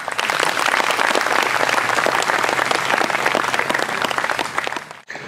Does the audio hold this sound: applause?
yes